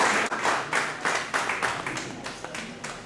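An audience at a leadership centre event claps in a series of distinct, fairly close bursts, about a dozen sharp pulses that soften slightly over the few seconds.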